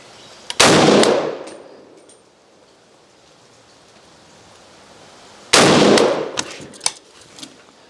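Two loud, close rifle shots from an AK being zeroed off a rest, spaced several seconds apart, each a sharp crack with a long rolling echo fading outdoors.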